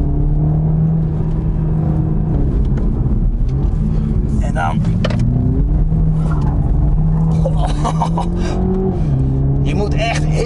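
Engine of a 2020 Toyota Supra 2.0 pulling hard through a corner, a steady loud drone with rising pitch sweeps as it accelerates, heard from inside the car under someone talking.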